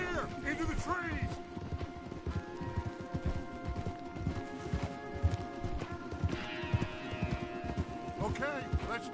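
Horses gallop with rapid clip-clopping hooves in the Red Dead Redemption 2 video game, a steady rhythmic beat heard throughout alongside a brief whinny, with game music and voices mixed in.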